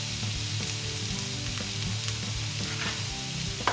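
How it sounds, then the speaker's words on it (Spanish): Seitan and onion sizzle and fry steadily in a hot pan, a dense continuous crackle with scattered small pops throughout, close and alone with no talking. "Cuando la cebolla esté transparente, incorporamos el seitán."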